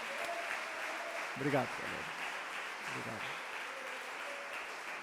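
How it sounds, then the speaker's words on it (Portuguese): A church congregation at a New Year's Eve service claps together in a short burst of applause, fairly faint and distant, while someone speaks briefly over it. "Vamos dar um grande aplauso ao Senhor Jesus."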